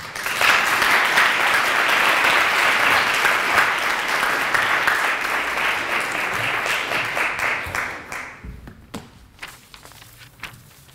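Audience applause for the second opposition deputy at a French debate final in a hall, a loud dense ovation that swells, holds for several seconds, then thins into scattered claps and shuffling.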